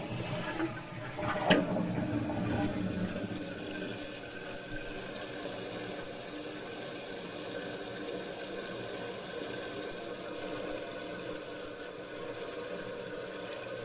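Household toilet with a newly replaced fill valve flushing and refilling: a burst of rushing water at the start settles into a steady hiss of the tank filling for the rest, with no talking.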